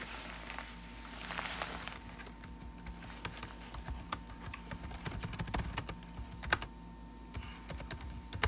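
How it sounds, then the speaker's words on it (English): Keys clatter on a computer keyboard during a live stream, scattered clicks and taps at close range over a steady background hum, with occasional faint thumps. "Maybe I'll just type in the chat."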